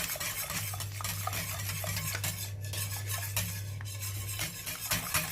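A utensil stirs a panna cotta mixture with agar-agar in a pot, quiet steady scraping and light clinks against the metal with a low hum underneath.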